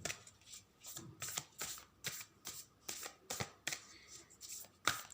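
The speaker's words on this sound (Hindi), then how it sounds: "बहुत सारे कार्ड्स एक साथ आ गए फ्रेंड्स, तो मैं रीशफल कर रही हूँ।" A deck of tarot cards is reshuffled close by, in steady repeated riffles and flicks of soft papery slaps, about a dozen bursts in quick rhythm, with no talking.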